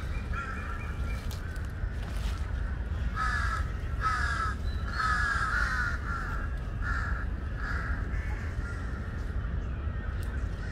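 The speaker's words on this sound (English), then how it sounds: "Look at the crow. He's like trying to kick his tail." Crows in Lumpini Park, Bangkok, caw repeatedly in a series of harsh calls grouped through the middle of the clip, fairly close, over a low rumbling outdoor background.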